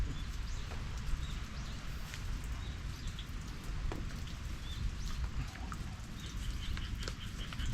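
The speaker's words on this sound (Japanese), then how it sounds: "今日ご覧の通り雨です" Steady rain falls on a Shine Muscat grape farm in Japan, a dense continuous patter of drops with occasional sharper hits and faint bird calls in the distance, no voices.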